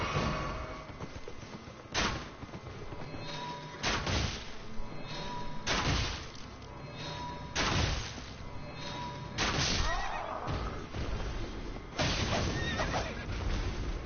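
Horse neighing in the video game Elden Ring Nightreign, repeated loud whinnies over a dense, continuous backdrop of in-game combat noise, thumps and hoofbeat-like clatter.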